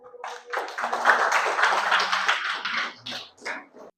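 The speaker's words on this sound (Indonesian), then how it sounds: "Aplaus buat ke semuanya." A group applauds at the close of a talk, a steady burst of clapping lasting several seconds that fades out near the end.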